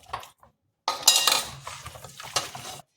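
Chicken being mixed with masala in a dish, giving clattering scrapes and clinks of a metal spoon against the pot in a steady burst after a brief pause, close and fairly loud.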